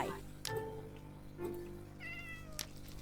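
A cat in the video game Minecraft meows several times, short nasal calls spaced across a few seconds, with a player talking in between and a faint steady background hum.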